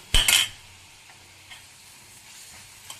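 A ladle stirs flattened rice (poha) in ghee in a pan, with a short close scrape and clink near the start, then only a faint, quiet sizzle.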